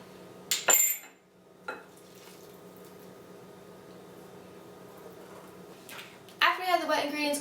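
A spoon stirs a dry gingerbread cake spice mixture with baking soda in a bowl. It gives a few quick clinks, then stays quiet, and a voice speaks near the end.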